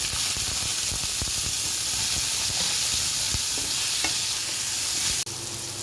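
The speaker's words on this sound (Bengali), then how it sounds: "সজিনাটা শুধু একটা ভাজা দেব" Pieces of drumstick vegetable fry in oil in a pan with a loud, steady sizzle broken by scattered clicks of stirring, ending in a sudden drop in loudness.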